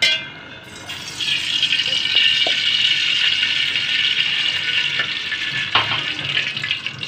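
Cooking oil poured into a pan before onions go in for an aloo pakora dish, a steady bright hissing, pouring rush that holds for several seconds close up.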